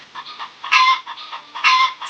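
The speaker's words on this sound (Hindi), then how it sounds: "मुन्नी और बाकी मुर्गियों ने सेठ पर हमला कर दिया।" A flock of hens attacks a man, letting out sharp, agitated clucks and squawks in quick bursts. Two louder squawks stand out above the rest, and no one speaks.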